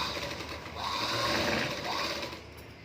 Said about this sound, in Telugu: ఇలాగ డబుల్ స్టిచ్ అయితే వేసుకుంటున్నాను